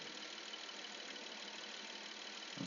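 The 3.2L engine of a 2002 Porsche Boxster S idles smoothly as a steady, faint, even hum with no variation, then a soft thump comes right at the end.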